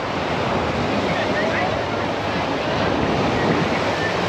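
Ocean waves wash continuously onto a beach, a dense steady surf roar with wind buffeting the microphone throughout.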